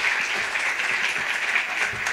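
Steady, dense applause from an audience honoring a trio at a bolero tribute concert, a continuous even wash of many clapping hands with no voices over it.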